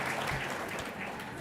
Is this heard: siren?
no